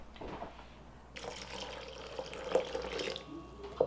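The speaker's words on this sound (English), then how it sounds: "I'm gonna fill this can up about halfway, and that'll be about another cup of water." Water runs from a tap into a can, filling it about halfway for a hash brown veggie casserole sauce; a steady splashing stream at close range, with no voices.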